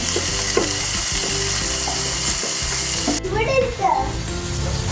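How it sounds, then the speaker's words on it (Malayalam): Paneer cut into large pieces fries in a hot pan with a steady, loud sizzle throughout, while voices talk over it. "ഞാനിപ്പോൾ ഒന്ന് ഫ്രൈ ചെയ്തെടുത്തേക്കാമെന്ന് വിചാരിച്ചു"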